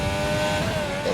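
Race cars in an ABR Tier 1 Australia season-opener race roar past steadily, a loud continuous engine drone with no gaps over the short span.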